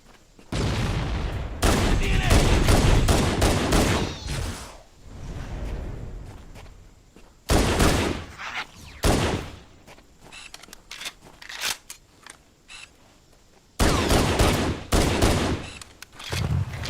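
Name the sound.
automatic fire from Jackal plasma pistols in the video game Halo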